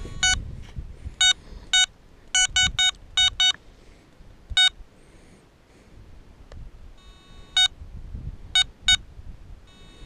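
A Garrett ATX metal detector emits bursts of short, sharp electronic beeps, sometimes paired or in quick clusters, separated by quiet gaps with faint background rustling.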